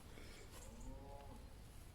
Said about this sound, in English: And you can hear the cows in the background.